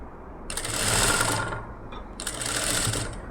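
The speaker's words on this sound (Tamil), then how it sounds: "அப்படியே அந்த கழுத்தை கரெக்டாக வச்சுட்டு இந்த எட்ஜ்லேயே தைச்சிட்டு வர்றேன் நான்" Sewing machine running in two bursts as it stitches along the neck edge of a blouse with lining cloth, a steady close mechanical whir with a short pause between runs.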